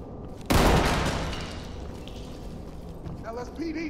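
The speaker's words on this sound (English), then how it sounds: "Flashbang going in." A flashbang grenade detonates in the tactical shooter Ready or Not, a sudden loud blast that decays into a long ringing wash, with voices coming in near the end.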